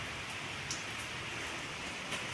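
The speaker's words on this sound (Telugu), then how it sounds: "వర్షం అండి, పెద్ద వర్షం పడుతూ ఉంది." Steady heavy rainfall, a constant close wash of drops on surfaces with occasional sharper splashes, heard alone without any talking.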